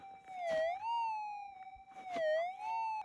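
Warbling tonal target signal from a GPZ8000 metal detector responding to a small gold nugget, rising and falling in two clear sweeps over a very quiet, stable ground tone, with faint scraping between.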